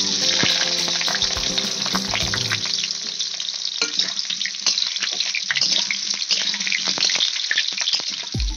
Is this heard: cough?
no